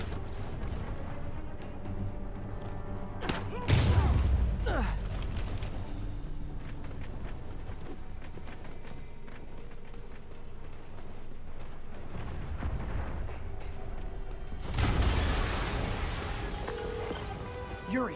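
Booming in-game blast from Marvel's Spider-Man on PS4: a heavy low rumble bursts out near the four-second mark and again around fifteen seconds, over a constant layer of game score and ambient background.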